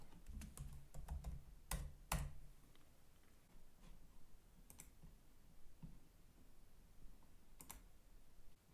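Quiet clicks of a computer keyboard as an airfoil's name is typed in: a quick cluster of keystrokes at first, then sparse, isolated taps over a faint background hiss, with no talking.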